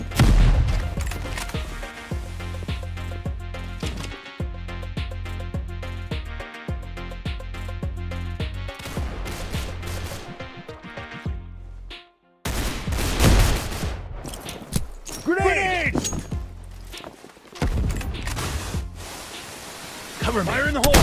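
Gunfire in the Roblox shooter CBRO rattles in dense, rapid bursts, loud and continuous for long stretches with a brief pause, and game voice lines are heard between the shots.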